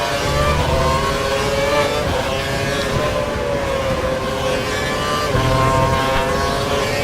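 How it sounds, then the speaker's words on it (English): Formula 1 cars in the F1 2012 video game at Melbourne scream past with high, sustained engine whine and shifting pitch, loud and close, several cars overlapping without a break. "All four cars flying past there, brake heavily down into this corner here."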